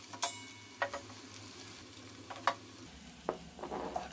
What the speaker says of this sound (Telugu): మంచిగా అల్లం వెల్లుల్లి పేస్ట్ కూడా ఫ్రై అవ్వాలి